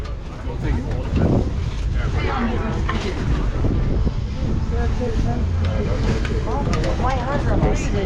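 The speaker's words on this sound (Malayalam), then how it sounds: "കാറ്റ് നല്ല അടിക്കുന്നുണ്ട്" Strong wind buffets the microphone outdoors in Lithuania, with a constant roaring rush under a person talking throughout.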